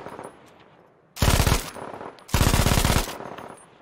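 MG42 machine gun firing in a Call of Duty game, two loud sustained bursts of rapid automatic fire separated by a short pause, close and harsh, with no speech.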